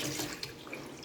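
Water from a tap splashes into a sink as perilla leaves are rinsed, a brief, close and steady burst of running water.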